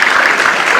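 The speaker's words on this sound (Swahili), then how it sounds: "tuwapigie makofi" Audience applause for the Kenya Railway board members at a political meeting in Ngong, a dense, steady clatter of many clapping hands that stays loud and close through the short burst.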